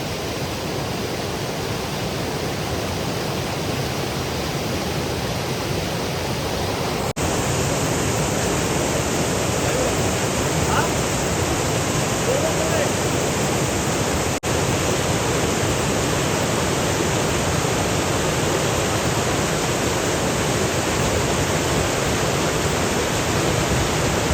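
River water rushes and churns in a steady, loud, close wash of broadband noise that swells slightly after the first few seconds and holds unbroken, with no voices.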